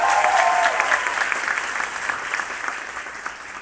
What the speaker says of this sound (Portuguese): Salve de palmas pro Lucas.